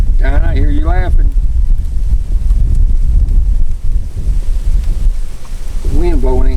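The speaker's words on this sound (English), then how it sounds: "The wind blowing ain't helping nothing." Wind gusting over open water on Lake Okeechobee while fishing, a steady loud rushing roar with heavy microphone buffeting throughout, and a person talking near the start and again at the end.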